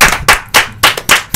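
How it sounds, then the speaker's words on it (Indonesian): Five sharp hand claps, evenly spaced and loud, close to the listener with no other sound. "kita beri tepuk tangan"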